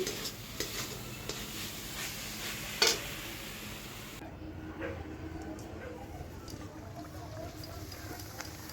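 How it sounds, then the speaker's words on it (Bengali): Luchi, puffed flatbread, frying in hot oil, a steady soft sizzle running throughout with occasional light clicks and a single sharper knock, heard faint and close. "এখন এই শেষে লুচি ভাজছি"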